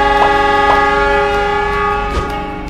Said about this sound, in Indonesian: itu dia, keretanya udah mau berangkat